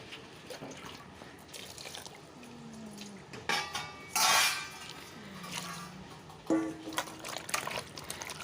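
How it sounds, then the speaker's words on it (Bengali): Ridge gourd pieces are washed in water in a kitchen: quiet splashing and trickling with a brief gush of running water and a few soft clinks of a bowl, fairly faint and close, with no talking. "তো এগুলোকে এবার জল দিয়ে ভালো করে"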